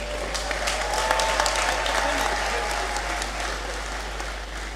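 Sustained applause fills a university congregation ceremony hall at its close, a dense, steady wash of many hands clapping that holds loud throughout with little variation, while a voice speaks over it.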